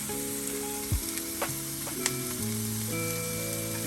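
Vegetables hit hot oil in a pan with a steady, close sizzle, while a few sharp clinks and taps of the pan and utensil sound over the frying noise.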